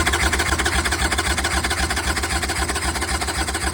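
A Harley-Davidson motorcycle engine idles with the choke off and no throttle applied while being checked for a fuel-flow problem, producing a loud, steady, rapidly pulsing rumble with no voices over it.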